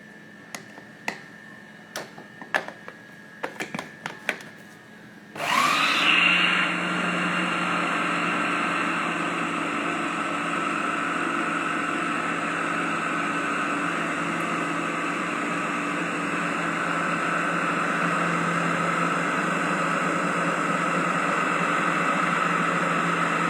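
A few faint ticks and clicks precede a motorized grinder that abruptly starts up, then runs in a steady, loud, continuous whir and hum while blending spices with cooking oil, sesame oil and soy sauce into a smooth paste.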